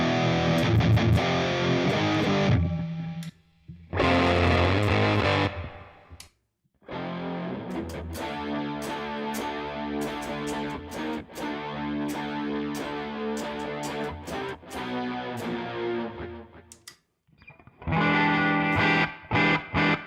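An electric guitar played through a TONEX One pedal switches between amp tones, with distorted chords and riffs broken by brief silent gaps as each new tone comes in, loud and with no talking.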